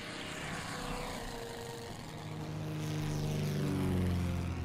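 Propeller-driven torpedo bomber in the Pacific war game Order of Battle, a steady droning engine hum that swells and deepens toward the end, heard alone without talk.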